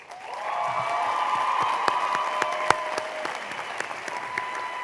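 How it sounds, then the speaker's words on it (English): A commencement crowd claps for a departing university president, applause swelling in from a quiet start into a full, steady roar with a few louder nearby claps and faint cheering mixed in. "please join me in one last round of applause for President Dobell."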